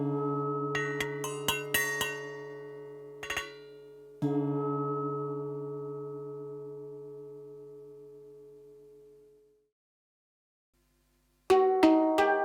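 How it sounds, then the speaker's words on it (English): Clustered metallic strikes on temple bells give way to a long, resonant ringing that gradually fades to silence, then a few more bright strikes sound at the end. "temple bells,"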